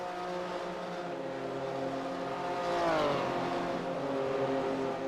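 Race cars running at Lime Rock, a sustained engine drone with a pitch sweep near the middle as a car accelerates past, steady and fairly loud throughout with no talking.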